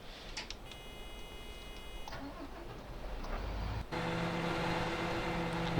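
The engine of a Krone BIG X 650 forage harvester in Farming Simulator 2015 cranks with a whirring starter, then catches and settles into a loud, steady idle with a droning, tonal hum.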